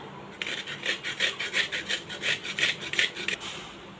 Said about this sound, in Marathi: अशा प्रकारे बारीक किसला गेला पाहिजे खोबरा तर संपूर्ण खोबरानं आपण किसून घेऊया